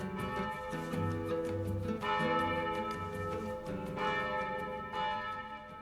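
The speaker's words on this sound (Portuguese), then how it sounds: "vamos trazer as 13 badaladas do sino" A church bell tolls in steady, ringing strokes, each strike blooming into a long sustained hum that overlaps the next, with the strokes continuing alone at moderate loudness throughout.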